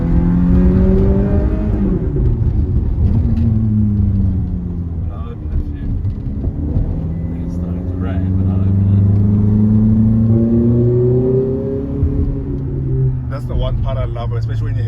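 A Ferrari F430 Spider engine revving hard under acceleration, a loud, sustained rising and falling roar heard from inside the car with voices talking over it.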